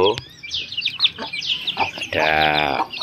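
Chickens cluck in quick bursts, then a rooster lets out a loud drawn-out call near the end, close and clear.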